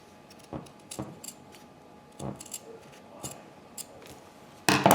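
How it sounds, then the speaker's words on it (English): Fabric scissors snipping through felt above a stitch on a soft-circuit sewing sample, several separate crisp close cuts spaced about a second apart, with a louder rustle of handling at the end. "I'm gonna go ahead and just cut this above the stitch, just like that"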